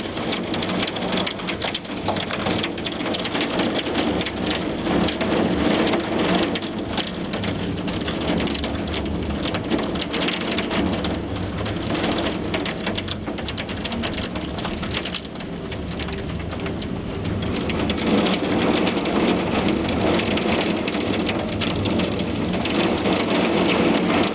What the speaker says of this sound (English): I haven't seen hail this big in years